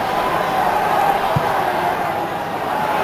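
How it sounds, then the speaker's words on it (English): Football crowd at Anfield roaring steadily as a Liverpool player is urged to shoot, a dense, sustained wash of voices with a single dull thud partway through. "Crowd urging him to shoot, which he does!"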